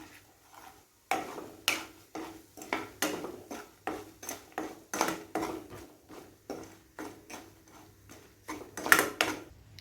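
A spoon scrapes and taps repeatedly against a pan as curry leaf powder is stirred into rice. The clicks come in a fairly steady rhythm, close but quiet, with no speech.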